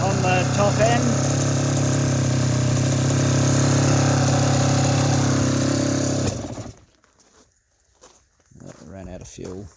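A 1990 Suzuki RGV 250 VJ22 two-stroke motorcycle engine runs steadily up close with a slightly metallic top end, then cuts out abruptly, followed by quiet and a few faint voices.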